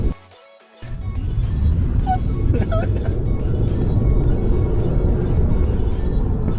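A Tesla Model 3 electric car accelerates with a smooth, steady rising hum and road rumble that builds after a brief quiet moment, with no gear shifts, with faint talking mixed in.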